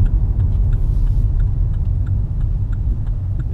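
Vauxhall Corsa 1.2i 16v Limited Edition heard from inside on a dual carriageway, steady engine and road rumble droning loudly, with faint regular ticking, likely the indicator.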